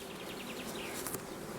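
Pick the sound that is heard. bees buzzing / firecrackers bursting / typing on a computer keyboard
bees buzzing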